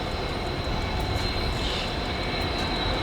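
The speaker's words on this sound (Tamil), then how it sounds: "அங்கே பாருங்க ட்ரெயின் வருது." Indian Railways locomotive rumbling along the track, a steady, loud, continuous low drone and rattle with no pauses, heard from nearby.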